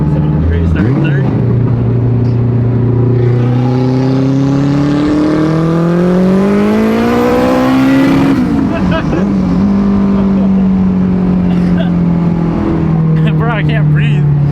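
An all-wheel-drive Honda Civic making over 700 wheel horsepower pulls hard from third gear, its engine note climbing steadily to a loud peak, shifting, then roaring on from inside the cabin.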